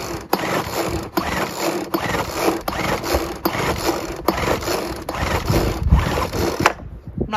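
Repeated pulls on the recoil starter cord of a Weedeater BV200 two-stroke gas leaf blower with low compression, a steady run of rattling mechanical ratchet strokes about once per second, close and fairly loud, with no engine catching.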